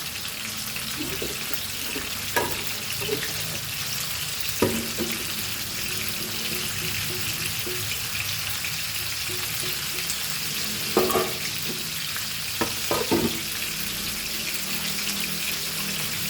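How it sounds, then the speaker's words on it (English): Goan-style pearl spot (Kalundar) fish fries in a pan over medium heat, a steady hissing sizzle running throughout, broken by a few soft utensil knocks and scrapes, with no talk. "Fry on medium heat till the fish is nicely fried."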